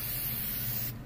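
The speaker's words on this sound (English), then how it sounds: "I'll spray just a little bit on the outline" A short, steady hiss of a spray paint can, loud and close, lasting about a second before cutting off abruptly.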